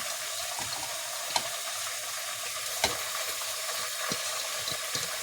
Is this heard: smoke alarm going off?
no